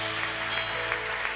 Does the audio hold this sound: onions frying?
no